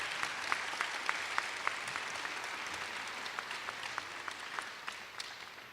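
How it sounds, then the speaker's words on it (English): Steady applause from a school audience at a middle school awards ceremony honoring students, a dense patter of many hands with a few sharper individual claps standing out, moderately distant and sustained throughout. "Let's give all these students a round of applause"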